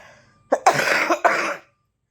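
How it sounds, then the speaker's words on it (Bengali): A person gives a few harsh coughs in quick succession, loud and close, with silence before and after. "সরি বন্ধুরা ভীষণ কাশি হয়েছে"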